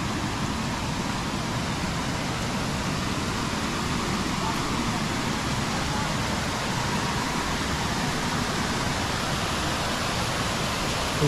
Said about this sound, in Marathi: इकडे एक छोटासा धबधबा आणि इकडे एक छोटासा धबधबा जो वरतून तिकडून येत आहे